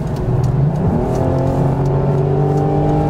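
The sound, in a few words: Audi TT V6 ABT engine accelerating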